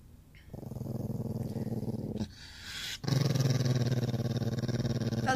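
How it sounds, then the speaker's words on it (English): A dog growls low and steady, close and loud, a continuous rumbling snarl that pauses briefly and then resumes more intensely, set off by an ice cube placed on it. "Dog."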